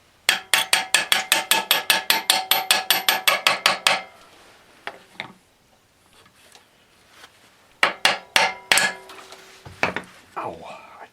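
A hammer strikes the front forks of a 1970 Rupp Scrambler in a fast run of about sixteen sharp metallic taps, then after a quiet gap several more scattered hits, close and loud.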